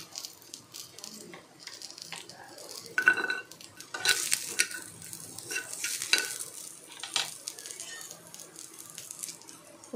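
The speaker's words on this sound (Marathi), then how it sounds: "आता याच्यात मी लसूण टाकत आहे." Garlic goes into a pan of onions that are already fried. Oil sizzles under repeated stirring and scraping of a utensil against the pan, close and moderately loud, with no voices.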